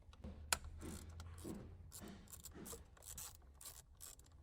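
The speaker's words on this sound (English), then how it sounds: "We got a ratchet with a small extension on there. Do the same to the Torx bit on the driver's side." A ratchet with a small extension turning Torx bolts on the steering wheel of a 3rd generation Toyota Tacoma, giving soft repeated clicking and rasping strokes with one sharper click near the start, quiet and close, with no talking.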